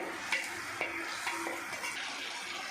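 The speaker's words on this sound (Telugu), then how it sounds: "ఇప్పుడు జీడిపప్పు దోరగా ఎప్పుకుందామండి" Cashew nuts fry in a pan for paneer curry, a steady sizzle with a few sharp ticks and scrapes as a spoon stirs them.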